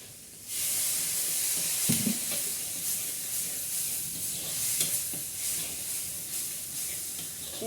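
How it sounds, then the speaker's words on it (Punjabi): Spice masala for dum aloo roasting on high flame in a pan, a steady close sizzle with occasional scraping stirs throughout, no talk. "ਅੱਗ ਤੇਜ਼ ਤੇ ਵਧੀਆ ਤਰੀਕੇ ਨਾਲ ਭੁੰਨ ਲੈਣਾ"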